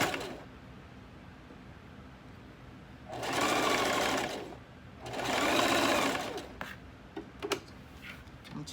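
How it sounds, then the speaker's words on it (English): A sewing machine stitching fabric with lace runs in two steady whirring bursts of about a second and a half each, close and fairly quiet, followed by a few light mechanical ticks. "We got it laid under the needle in the presser foot, and we begin to sew."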